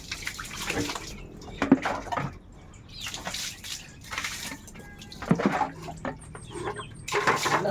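Water splashes and pours near a small child during a morning bath, with continuous sloshing and trickling and occasional louder splashes, close and fairly steady, with no talking.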